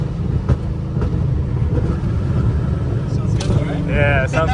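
A Nissan 350Z V6 with Tomei long tube headers and a single-exit ISR white pipe exhaust rumbles steadily up close, with people talking over it.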